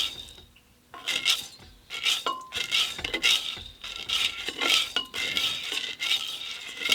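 Home-roasted coffee beans are stirred in a pan, producing repeated bursts of rattling, scraping and clinking from a utensil against metal in an uneven, rhythmic pattern, close and clear.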